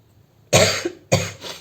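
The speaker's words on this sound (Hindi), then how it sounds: "अब मुझे खांसी आने लग गई है" Two sharp, close coughs in quick succession, the second slightly softer, against a quiet background.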